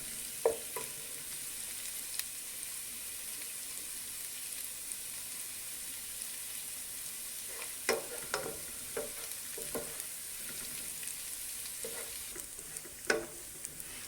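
Garlic, ginger and green chillies fry in a pan, a faint steady hiss of oil broken by occasional scrapes and clicks of stirring, close and quiet with no voices.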